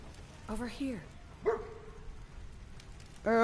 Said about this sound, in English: What, is that a dog?